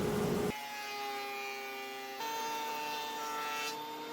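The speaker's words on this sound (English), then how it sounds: "Now roll out the DeWalt planer, go ahead and get that other face nice and flat" A DeWalt planer runs as it flattens the face of a wooden board, a quiet, steady motor whine that steps up in pitch partway through.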